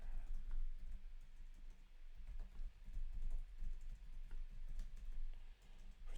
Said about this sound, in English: I was typing and it was taking me a while to transcribe what you were saying